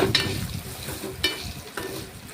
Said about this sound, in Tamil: ஆட் பண்ணி ஒரு பரட்டு பரட்டி விடுங்க